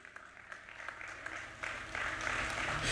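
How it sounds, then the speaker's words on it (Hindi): Applause rises for Sunita at a Voice of UAE Women stage event, starting thin and growing steadily louder into a fuller wash of clapping over a few seconds. "जोरदार तालियां हो जाए सुनीता जी के लिए"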